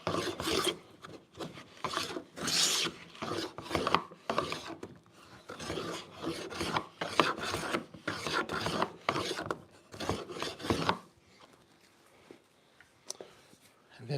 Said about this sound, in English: And then maybe a little more scraping.